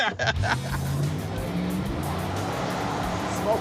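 A beater car launches hard and accelerates up through its gears, the engine loud and close with a steady roar and rising pitch, brief tire noise at the start, and a voice partly under it.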